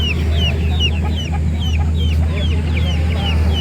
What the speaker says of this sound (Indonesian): Informasi dari pemiliknya bahwa ini anakan pama klasik teman-teman.